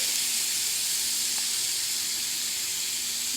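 Steady frying sizzle of catfish on an electric Foreman grill, a broad, hissing crackle that holds evenly throughout, close and fairly loud, with no voices.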